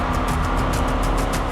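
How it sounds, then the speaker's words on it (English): An 8-cylinder, 750-horsepower race car engine fires up and runs with a loud, close, dense rumble, its rapid pulsing throb holding steady throughout. "You hear that sound of 8 cylinders and 750 horsepower fire up."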